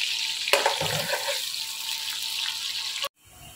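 A medium-sized onion drops into a pan with a sharp burst of sizzle, settling into a steady frying hiss that cuts off abruptly near the end.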